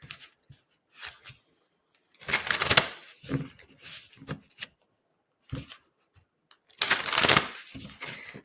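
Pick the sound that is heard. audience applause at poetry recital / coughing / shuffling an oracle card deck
shuffling an oracle card deck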